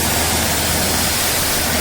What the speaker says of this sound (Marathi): गाडीवर डस्ट बसलेली असते ती अशा प्रकारे साईडला केली जाते हवा मारून.